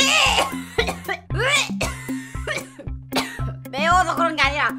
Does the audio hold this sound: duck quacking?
no